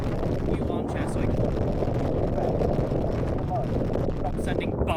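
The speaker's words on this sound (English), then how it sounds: "Callie, there's a bit windy here." Wind buffeting a microphone outdoors: a dense, continuous low rumbling roar that stays loud and steady throughout.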